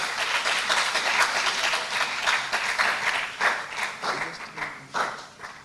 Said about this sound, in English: Please, round of applause as they come.